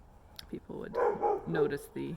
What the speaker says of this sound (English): No, sorry about my dog.